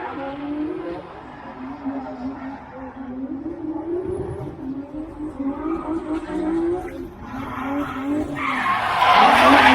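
Cars drifting on a track at a bhp car show produce a sustained engine drone with screeching tire squeal, heard from a distance and swelling louder toward the end.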